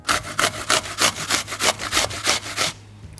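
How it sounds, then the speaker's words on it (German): An apple is grated by hand along its core, making about eleven loud, evenly paced rasping strokes in a steady back-and-forth rhythm that stop abruptly near the end. "Und wir brauchen einen Apfel, den müssen wir reiben, vorher entkernen oder ihr macht es so, wie ich das mache, wir reiben den am Strunk entlang."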